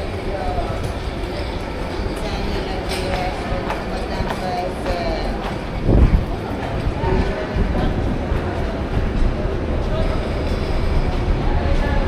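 Budapest Metro M4 train rumbling steadily nearby in a station, a continuous low mechanical roar with a brief louder thump midway, while people talk faintly underneath.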